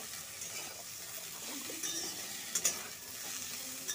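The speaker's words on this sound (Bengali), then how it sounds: "ওই জন্য ডাঁটাটাকে একটু ভাজতে হয়।" Vegetable stalks fry in a pan, a soft steady sizzle of moderate loudness with a few light stirring clinks and scrapes; no one speaks.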